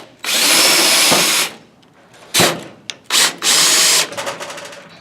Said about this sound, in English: You will take the remaining screws and mount the battery to the housing as well.